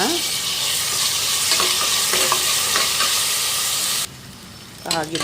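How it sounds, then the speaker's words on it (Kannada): Chopped tomato frying in a pan for a vegetable saagu, a loud, dense hiss and sizzle with stirring clicks that drops off abruptly near the end before a brief clatter. "ಒಂದು ಟೊಮೊಟೊನ ಸಣ್ಣ ಕಟ್ ಮಾಡ್ಕೊಂಡು ಇಟ್ಕೊಂಡಿದ್ದೀನಿ, ಹಾಕ್ಕೊಳ್ಳೋಣ. ಅದನ್ನು ಫ್ರೈ ಮಾಡ್ಕೊಳ್ಳೋಣ."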